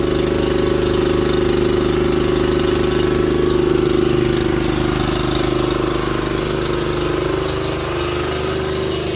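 A manlift's small gasoline engine with a newly fitted muffler idles steadily and close by, a continuous rumbling drone that holds nearly level throughout, with no voices.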